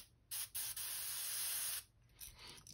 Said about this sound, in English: Here I'm just trying to spray down from the shell pattern